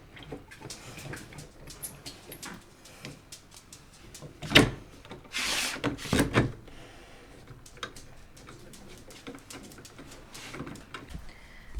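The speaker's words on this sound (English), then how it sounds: "So I now have a door that closes again." A renovated door in a tiny house is shut, giving a couple of sharp wooden knocks and latch clicks among quieter handling taps and rustles, with no speech.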